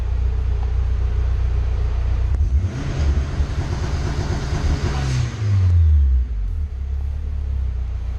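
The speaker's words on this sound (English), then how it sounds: "as I'm hitting that limiter for the anti-lag setup" A compound-turbo Honda S2000 engine holds against its two-step launch limiter with anti-lag, a loud, close, choppy rumbling rev that rises for a few seconds then drops back to a steady idle.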